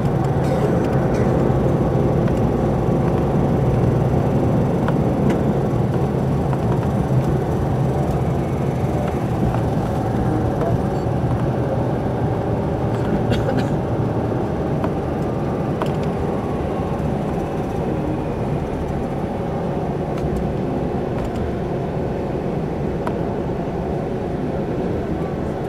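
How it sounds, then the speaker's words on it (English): Steady road rumble and engine drone from inside a vehicle driving up toward the hillside city of Nazareth, continuous and fairly loud for the whole stretch, with no talk over it. "Views as we're driving into Nazareth"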